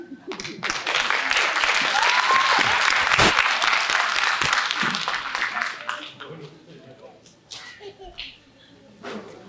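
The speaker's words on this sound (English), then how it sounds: "Keep your hands warm for all the claps that we will be doing tonight." A crowd applauds loudly for several seconds at an evening school oratorical contest and art competition, the clapping gradually thinning out and fading to scattered claps near the end.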